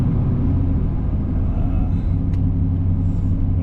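Steady low drone from a 1983 Pontiac Parisienne four-door with a 305 four-barrel V8, driving on the road; the engine and road noise stay constant and fairly loud, with a brief faint higher squeak partway through and no voices.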